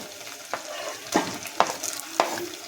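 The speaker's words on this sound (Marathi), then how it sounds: "हे बघा आता कांदा ऍड करूया आपण" Chopped onion sizzling in a pan for a Malvani chicken rassa, with a soft steady fry broken by several stirring scrapes spaced about half a second apart, and no talking.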